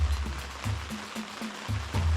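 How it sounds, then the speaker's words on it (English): Rain falls steadily at a mountain campsite on Kilimanjaro, a soft continuous patter with faint low thumps, quiet and close. "And it's raining."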